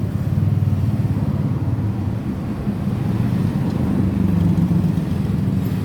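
A motorcycle engine with a broken CDI wire idles steadily nearby during troubleshooting, a continuous low rumble that holds level throughout with no talk over it.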